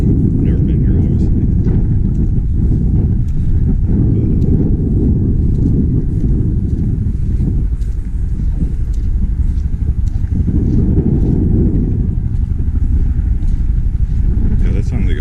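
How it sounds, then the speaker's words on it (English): A military helicopter passes overhead near a black sand beach, its heavy low droning rumble loud and continuous, swelling and easing slightly over time. "that sounds like a military helicopter"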